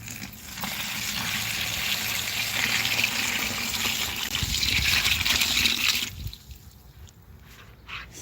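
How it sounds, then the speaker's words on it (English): Water slurry pours onto potted watermelon plants in a steady, close gush for about six seconds, then thins to soft trickles and drips before fading. "I'm just going to make some little slurry to water my plants with."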